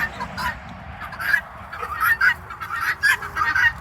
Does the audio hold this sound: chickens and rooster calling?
yes